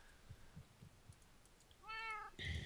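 Cat meowing in the Minecraft video game, a single drawn-out meow near the end after a few soft thumps, faint and quiet, with no talk.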